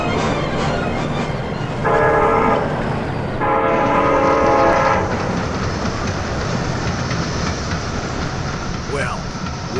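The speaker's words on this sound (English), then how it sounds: "Hey, the train's stopping." A train draws in and slows to a halt amid continuous heavy rumbling and clatter, with two long horn blasts sounding partway through.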